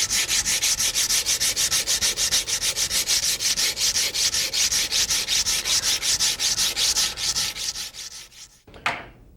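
Steady rhythmic rasping strokes of an abrasive stone stick rubbed over a gun part to smooth away marks left by a coarse mill bastard file, close and continuous with even back-and-forth cadence, stopping abruptly near the end.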